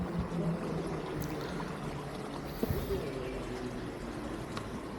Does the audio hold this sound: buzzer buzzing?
no